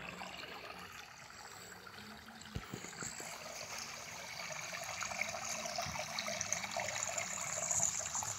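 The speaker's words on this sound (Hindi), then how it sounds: "काफ़ी तेज़ पानी देखिए इसी चश्मे का, सब चश्मों का जमा होकर इधर आ रहा है" A strong stream of water from the spring of Moses rushes through a channel toward a valley, a steady hissing flow that swells slightly louder toward the end.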